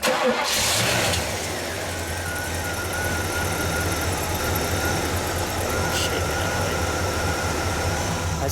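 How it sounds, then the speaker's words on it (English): A 1977 Pontiac Can Am's 6.6 V8 cranks and fires indoors, then settles into a loud, steady, rumbling idle exhaust note with a slight blip midway. "let's turn her over for just a moment"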